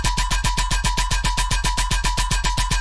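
A metallic synth bass preset called Steel plays a loud, steady pulsing tone, rapidly throbbing in even beats of about seven per second with a bright ringing edge, heard alone.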